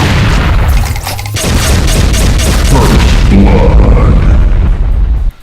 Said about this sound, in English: BFG 9000 shots, and BFG 10K shots.